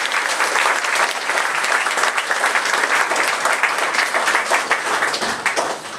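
A ceremony audience at a cornerstone-laying event bursts into warm applause, dense continuous clapping from many hands, loud and steady for the whole stretch with no talking.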